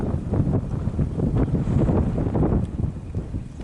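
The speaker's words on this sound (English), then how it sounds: "Very crazy windy" Strong wind buffets the microphone in continuous, heavy low rumbling gusts in the California mountains, loud and unbroken throughout with no voices.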